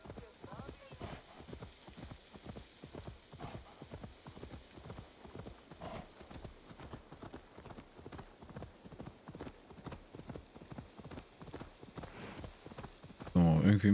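Steady hoofbeats of a horse ridden at a walk in Assassin's Creed Valhalla, an even clip-clop rhythm continuing throughout, moderately close, ending with a brief louder burst of noise.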